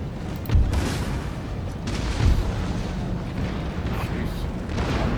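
Artillery fire in Total War: Empire during a Prussia campaign: two deep, rumbling booms about two seconds apart rise out of a steady battle din, with a voice talking over the background.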